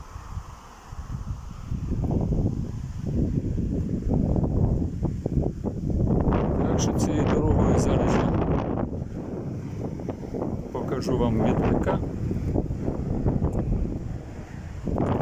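Strong wind buffets the microphone in a loud, steady rumble, swelling in gusts with roaring noise throughout.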